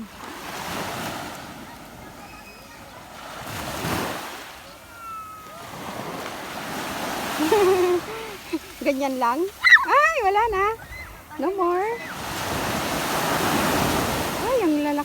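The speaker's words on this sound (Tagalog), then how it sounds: "Ay, ang lalakas ng alon," Strong ocean waves at Pagudpud beach in Ilocos Norte roll in as loud, rushing surges amid gusty wind, with people talking over the surf in the middle.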